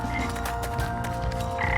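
Frogs croak steadily in a video game, a continuous ribbiting chorus layered over sustained tonal game sounds, loud and close throughout with no voices.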